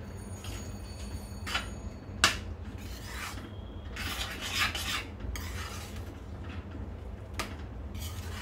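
A spoon stirs spices, black salt and salt into a grated Indian gooseberry jam mixture, giving repeated scraping, rasping strokes against the pot over several seconds, close and fairly loud, with no talking.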